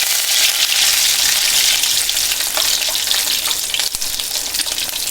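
Green chillies drop into hot oil already holding fenugreek seeds and curry leaves for a fish curry, giving a loud, steady, crackling sizzle close by.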